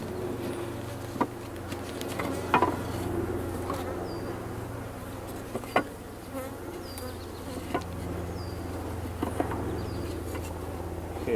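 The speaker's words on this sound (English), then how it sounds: "There were lots of bees in there." Bees buzz inside a hive compartment, a steady, low droning hum with occasional individual bees flying close by, plus scattered faint knocks and bird chirps in the background.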